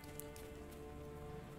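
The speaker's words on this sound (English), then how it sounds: "he's not walking in the rain all wet." Rain falls in the video game Sherlock Holmes: The Awakened, a soft, steady patter on surfaces that stays faint and even throughout, with no voices.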